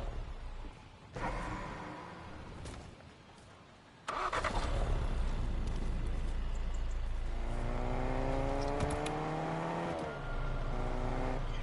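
A vehicle in Fortnite starts up and drives off, engine revving and rising in pitch with whooshing movement, fairly quiet at first then louder and sustained, with no voices.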